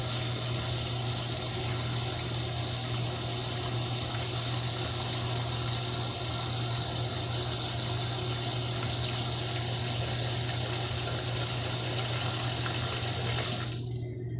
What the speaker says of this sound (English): we're going to fill the pot up almost to, not all the way full, but at least to the top of the meat